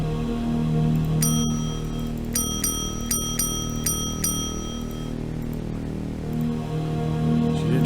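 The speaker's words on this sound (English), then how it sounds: "You ding the bell loudly and the receptionist looks at you over her glasses." A brass reception bell in the video game DreamWeb is dinged repeatedly, about five or six bright ringing strikes in fairly quick succession over a steady humming game background, with no speech.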